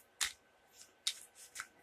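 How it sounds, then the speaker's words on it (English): Quiet, close riffling bursts of a tarot deck being shuffled, two main flurries with softer rustles between, faint and crisp against a silent background. "Another quick shuffle"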